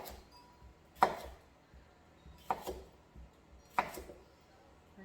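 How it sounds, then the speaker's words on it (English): Three sharp knife chops on a cutting board while trimming off the ends of vegetables, spaced about a second apart, crisp and close against a quiet room. "I'm just going to chop off the ends, cut these into smaller bits."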